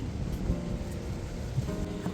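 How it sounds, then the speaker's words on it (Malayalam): Rain pours outdoors in Riyadh, a dense, steady wash with a deep rumbling undertone over about two seconds. No one speaks. "മഴ പെയ്യുന്നു."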